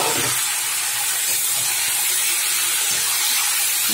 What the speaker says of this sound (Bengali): পেঁয়াজটা ভেজে নিয়েছি, নিয়ে মাংসটা দিয়ে দিলাম, দিয়ে ভালো করে কষাবো।